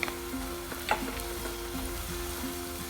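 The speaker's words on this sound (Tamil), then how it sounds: "நல்லா வதங்கட்டும். 5 நிமிஷம் நல்லா வதங்கியிருக்கு." Ingredients for a mango ginger pickle sauté in a pan, a soft continuous sizzle with occasional stirring scrapes, close and steady without talk.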